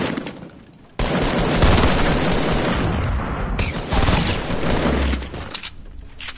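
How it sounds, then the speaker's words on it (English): Dense, loud gunfire from the video game Fortnite rattles almost without pause as shots hit the player, rapid bursts layered into a continuous barrage with a few heavier booms, no voices over it. "They keep shooting me from behind."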